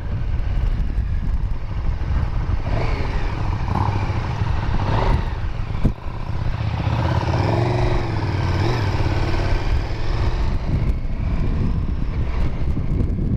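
A 2017 KTM Super Duke R roars steadily while being ridden, the engine a continuous loud drone mixed with heavy wind rush across the microphone.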